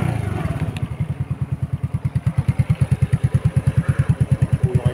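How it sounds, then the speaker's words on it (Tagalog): A Monarch RM CB110 underbone motorcycle idles close by, its single engine putting out a steady, even stream of low thumping exhaust pulses throughout. "Start po natin yung motor."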